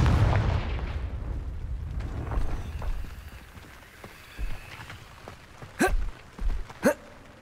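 A Confringo fire explosion spell in Hogwarts Legacy sounds as several short, punchy blasts late in the sequence, each a sharp crack with a brief boom, rising over a low ambient rumble.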